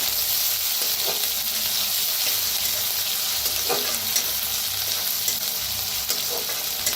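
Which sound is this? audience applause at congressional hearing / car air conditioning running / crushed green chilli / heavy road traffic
crushed green chilli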